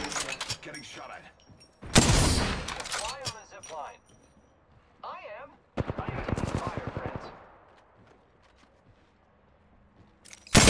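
Gunfire in Apex Legends comes in broadband bursts of rapid shots, loud and close around the two- and six-second marks with a shorter volley between, while voices talk over the action.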